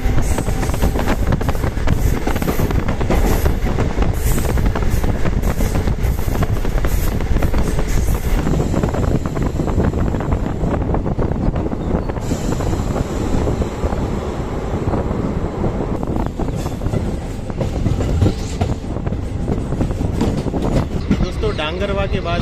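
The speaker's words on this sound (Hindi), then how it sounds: "डांगरवा के बाद अभी हमारी ट्रेन यहाँ अम्बलियासण पहुंच चुकी है।" A DMU passenger train on the Sabarmati–Mahesana line rumbles steadily along the rails, a loud continuous roar with rattling and wind buffeting throughout.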